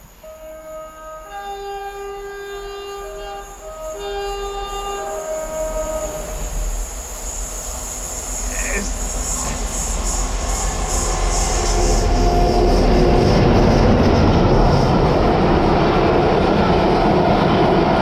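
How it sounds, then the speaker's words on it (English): A Class 47 diesel locomotive burbles through Wellingborough railway station, starting with a few steady horn-like tones before a deep, swelling engine and wheel rumble grows loud and close as it passes, with no talk. "the diesel Class 47 Chris Fudge will be bringing this one back. So it should be nice hearing her burbling through the station"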